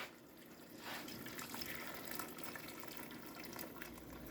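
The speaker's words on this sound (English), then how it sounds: "What I do now is I'm going to add a little bit of water, hot water that I have here." Hot water poured over stewing meat in a pot, a steady soft pouring and splashing wash that runs for about four seconds, quiet and close with no talk.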